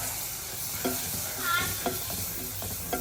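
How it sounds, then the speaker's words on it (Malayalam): Ground coconut mixture for a curry is being sautéed in a pan, a close steady sizzle with a few distinct scraping strokes of the spoon stirring through it, no voices. "അരച്ച് വെച്ചിട്ടുള്ള തേങ്ങ ചേരുവകൾ ചേർത്ത് നന്നായി വഴറ്റി"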